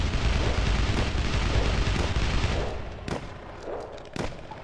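Gunfire aimed at an alien in the CastleMiner Z video game, a dense stretch of rapid, loud booming shots that thins into a few separate sharp blasts near the end, with no talk.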